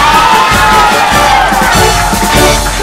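Loud studio audience at an Armenian quiz show bursts into continuous cheering and whooping with applause, a dense crowd roar sustained throughout without pause.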